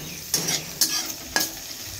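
Potatoes and long beans being stirred in a hot pan, with three distinct scraping stir strokes over a soft, steady sizzle of frying; close and fairly quiet, with no talking.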